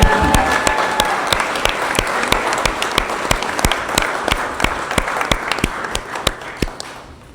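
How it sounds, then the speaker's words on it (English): Wedding guests at Addington Palace break into sustained applause, a dense steady patter of many hands clapping with sharp individual claps standing out, fading toward the end. "please give yourself a big round of applause"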